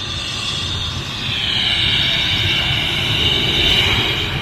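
A Jet2 airliner taxiing toward the active runway gives a steady, loud jet-engine whine and broad rumble heard from outdoors nearby, holding fairly constant and swelling slightly, with no talk.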